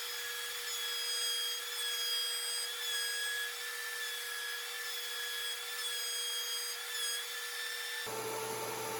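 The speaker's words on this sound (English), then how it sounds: "The base needs a chamfer, so I do that on the router table" A router table cuts a chamfer along a wooden base, its motor whining steadily at high pitch with a faint rubbing buzz from the bit against the wood, close and continuous before it stops abruptly.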